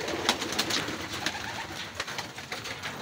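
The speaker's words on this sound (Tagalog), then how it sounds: "Ayun yung mga ibon natin," Racing pigeons coo at a distance in a loft during a pigeon race, soft repeated calls under a noisy, hissy background with no clear talk.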